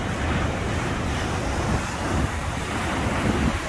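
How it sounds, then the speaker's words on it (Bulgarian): Big ocean waves crash against a fence under strong wind, a rough, churning roar with gusty buffeting that surges in several swells, loud and close. "Само виж такви вълни и ние сме им на пътя буквално"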